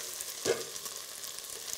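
Fava beans sizzling in a frying pan before going into a mushroom soup, a steady close crackle with one brief louder pop near the start and no talking.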